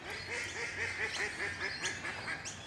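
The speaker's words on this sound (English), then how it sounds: "Ducks are just waking up." A group of ducks quacks in a rapid, regular series at dawn, somewhat distant, over a hissing outdoor background near a golf park.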